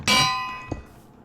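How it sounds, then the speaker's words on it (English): A single bright metallic bell strike from Minecraft, loud and ringing with clear overtones that decay slowly, followed by a softer second tap, with no talking. "Bell."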